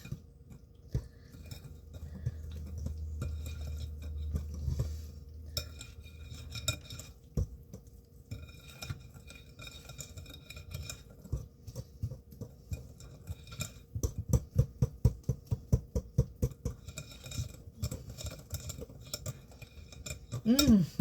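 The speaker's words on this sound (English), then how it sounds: "This says just to whisk into the batter." A whisk scraping and clinking around a bowl while ingredients are mixed into batter, quiet at first, then a fast run of bright rhythmic taps building toward the end.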